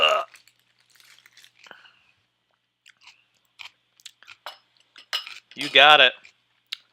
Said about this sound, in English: Slurp, slurp, crunch, crunch. Mmm. Peanut butter and kimchi.